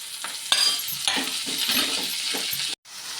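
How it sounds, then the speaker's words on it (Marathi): Onion, tomato, ginger, garlic and chilli sauté in a pan, a close, continuous sizzle broken by short scraping stirs, followed by a brief drop to silence. "टोमॅटो बरोबर मी ते आलं लसूण सगळं टाकते। हे बघा, आलं घेतले ते सगळं टाकते, मिरची घालते, सगळं आपण व्यवस्थित परतून घ्यायचं आहे"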